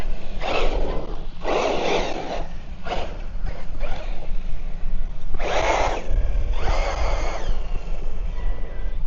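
A Team Corally Shiroi RC car driving and scuffing its tires, with repeated surging whirring bursts from the motor and wheels over a constant background rumble.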